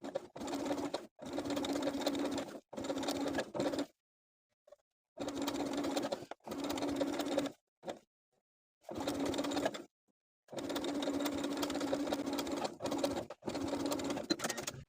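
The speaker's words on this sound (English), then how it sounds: "at my sewing machine, I'm going to sew the bottom lining to its seam allowance underneath with about a 1/4 inch seam allowance using a wide zigzag stitch" A sewing machine runs a wide zigzag stitch along swimsuit lining at the waistline, fast rattling runs of stitching in several bursts of one to three seconds, broken by short silent pauses and a few quick taps.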